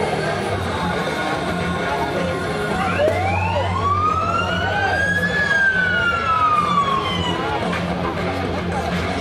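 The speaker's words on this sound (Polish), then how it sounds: "syrena alarmowa do wyjazdu to jest syreną do startu" A fire station alarm siren at a firefighter competition winds up in a rising sweep, peaks and slowly falls, loud and fairly close over constant outdoor background noise and faint voices.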